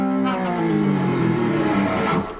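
Electric guitar slowly playing a riff with a slide, a short sustained sliding phrase, close and clear with no voice.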